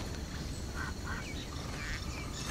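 A duck in the video game Risen 3: Titan Lords gives several short nasal quacks, spaced apart over a steady background hum of outdoor game ambience.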